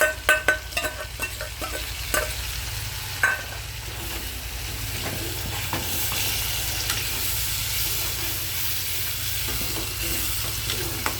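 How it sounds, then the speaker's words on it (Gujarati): Tomato puree sizzles steadily in a hot pan for chole, with a spoon scraping and stirring at the start, a continuous close frying hiss filling the rest without talk. "પ્યુરી નાખી દેવાની ટમેટાની."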